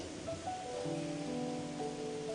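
Heavy rain pours steadily over Ambon, a continuous even hiss that stays moderately faint throughout with a few faint tonal sounds over it and no talk.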